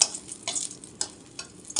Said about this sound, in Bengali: 3টে শুকনো লঙ্কা ভেজে নেব।